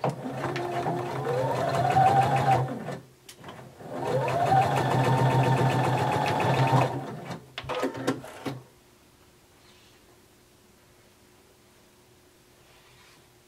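A sewing machine stitches shoulder and side seams of a romper in two sustained bursts at a 5/8 inch seam allowance, with a whine that rises as it speeds up, then a brief stop-start and quiet.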